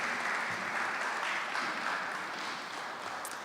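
Audience at an inter-primary schools debating championship clapping in a dense, even wash that gradually thins and softens toward the end.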